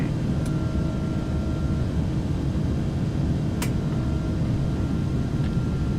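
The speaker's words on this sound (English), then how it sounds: "Okay, we're rotating. Positive rate. Gear up." A simulated A330 airliner taking off in the X-Plane 11 flight simulator: a steady, loud jet engine roar with a broad rumble. It holds evenly throughout, with no talking.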